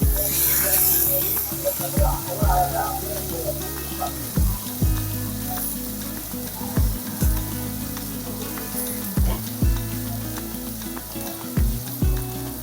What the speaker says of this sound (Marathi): कांदा छान गुलाबी करून घ्यायचा